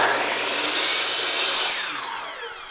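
A miter saw slicing through wooden trim, a steady whining cut that holds loudly for a couple of seconds and then tapers as the blade spins down, with no voices.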